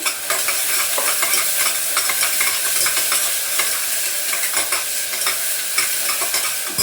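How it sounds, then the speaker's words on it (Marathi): Tomatoes sautéing with onions in a pan, a steady close sizzle with spatula stirring and scraping clicks running throughout at even loudness. "टमाटा पण टाकते लगेच परतायला"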